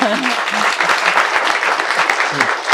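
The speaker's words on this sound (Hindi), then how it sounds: "अपने लिए ताली बजाओ" An audience at a film cast interaction claps for themselves, a thick stretch of crowd applause with voices talking underneath.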